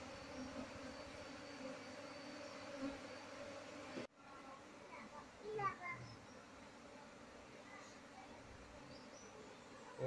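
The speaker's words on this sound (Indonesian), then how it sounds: "Dan sekarang koloni lebah ini akan balik lagi ke kotak budidaya." Swarming honey bees buzz faintly and continuously around a hive box in the open, a soft droning hum with scattered distant sounds and brief indistinct voices.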